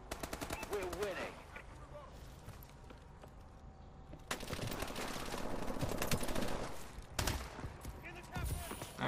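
Rapid bursts of gunfire in a pistol-focused first-person shooter, with sharp repeated shots in fast volleys, some near and some farther off, alongside game effects and faint voice chatter.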